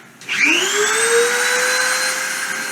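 A CNC spindle running at 30,000 RPM plunges into and cuts a surface, a steady high-pitched whine with sharp tonal harmonics that rises in pitch at onset and holds loud and close for the rest of the clip.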